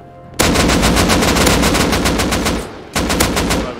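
Rapid automatic gunfire in the video game Rust, loud and close, rattling steadily for over two seconds, breaking briefly, then resuming in a second burst.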